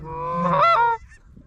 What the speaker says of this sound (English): Oh, there's three little geese. Oh, a big flock on our left too.